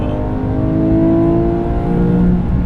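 A GT3 sports car engine runs at a steady, loud rev, its tone climbing slightly mid-way and holding through to the end, close up and with no talking.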